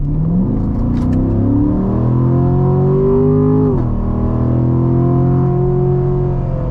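A C7 Corvette Grand Sport pulls hard under acceleration from inside the cabin, a loud steady engine drone climbing in pitch, dipping briefly at a shift near four seconds, then rising again without any talk.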